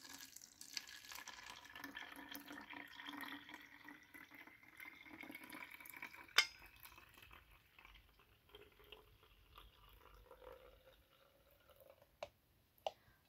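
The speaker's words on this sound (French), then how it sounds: "je vais venir mettre mon eau déminéralisée" Demineralized water poured into a small bottle, a faint thin trickling stream that fades over several seconds, with a few sharp clicks of handling, quiet and close.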